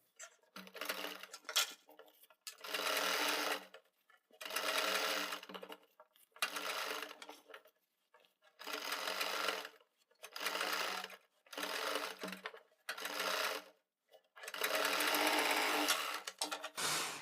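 Sewing machine running in repeated bursts along a garment's fabric edge while stitching a round neckline, each run lasting one to two seconds with short pauses between, close and steady with no talk.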